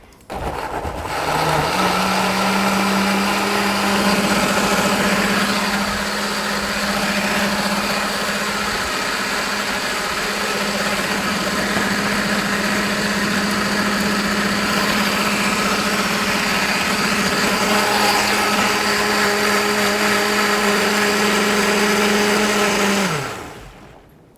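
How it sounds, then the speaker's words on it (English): A blender purees charred leek and white bean soup, its motor whirring loud and steady for over twenty seconds before spinning down, with no talk over it. "Love the sound of blenders."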